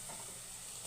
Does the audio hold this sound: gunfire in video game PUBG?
no